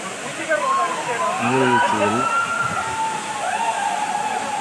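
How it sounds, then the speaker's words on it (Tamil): A waterfall in the Kolli Hills gives a steady, broad rushing roar at constant loudness throughout. Someone speaks over it in the middle. "அதே உயரத்தில் இந்த நீர்வீழ்ச்சி வந்து கொண்டிருக்கிறது"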